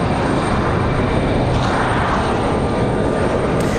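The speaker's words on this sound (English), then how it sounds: "Nice departure." Airliner departing Raleigh-Durham International Airport on a windy day, a loud continuous engine roar filling the whole stretch with broadband rumble and a steady whine, no talking.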